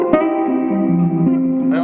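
Sustained notes from a Gibson ES335 through an Evans RE150 jazz amp, a clean tone stepping down through a short descending line with a reverberant tail, plus a brief pick attack at the start and a new note at the end.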